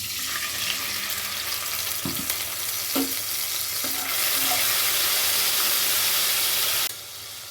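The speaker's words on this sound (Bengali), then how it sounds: "ওই তেলেই ফোড়ন দিচ্ছি এলাচ দারুচিনি লবঙ্গ দিচ্ছি কাঁচা লঙ্কা আর আদার পেস্ট" Cardamom, cinnamon and cloves with green chilli and ginger paste fry in hot oil, giving a close, steady sizzle that swells louder midway and then cuts off abruptly near the end.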